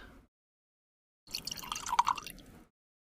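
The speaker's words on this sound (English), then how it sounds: "It's uncorked. And now for the pour." Red Rioja wine poured from a freshly uncorked bottle, a short splashing trickle of about a second after silence, fairly close and alone.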